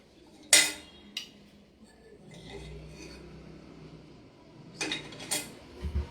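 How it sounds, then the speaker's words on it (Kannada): A mixing bowl and kitchen utensils are handled during cooking, with a few faint, scattered clinks and knocks separated by quiet stretches. "ಈಗ ಮಿಕ್ಸಿಂಗ್ ಬೌಲ್ ತೊಗೊಂಡು"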